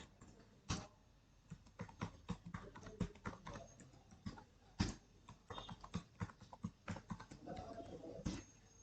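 A password being typed on a computer keyboard in a Linux terminal, with soft irregular key clicks in short bursts, faint and close, occasional louder single taps.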